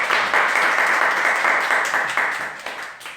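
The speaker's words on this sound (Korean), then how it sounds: "큰 박수로 환영하도록 하겠습니다." A church congregation gives warm applause to welcome a speaker, a dense, steady clatter of many hands that slowly thins and fades over a few seconds.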